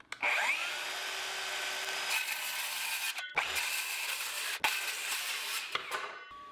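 A power saw cuts wood during an attic ladder install, with a steady, loud whining cut that pauses briefly twice before resuming and then winding down.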